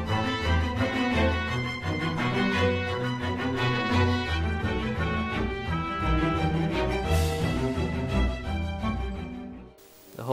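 Fast, upbeat chase music from the Don't Starve video game, an old-fashioned-sounding tune with a driving rhythmic pulse, steady and full throughout before dropping out at the very end.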